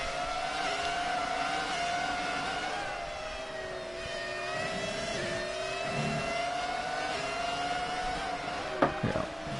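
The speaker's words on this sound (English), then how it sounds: "Let's just enjoy some engine sounds from Giuliano Manu" Racing car engines in a sim racing game during a modern classic event in Italy, a steady high whine that rises and falls through gear changes, several cars droning together continuously with a brief sharp knock near the end.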